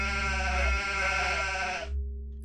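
A goat in the video game What Lies in the Fog lets out one loud, wavering bleat lasting about two seconds before it cuts off, with no other sound around it.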